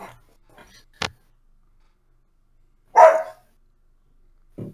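A dog barks a couple of times indoors during a tabletop game session, with short sharp yaps separated by quiet pauses.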